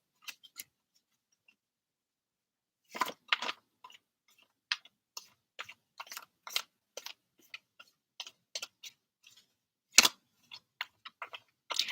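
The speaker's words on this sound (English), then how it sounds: "I'll keep shuffling until I get some questions." Book of Thoth tarot deck being shuffled by hand, sparse dry card clicks and short riffling flutters in uneven bursts against near silence, quiet and close.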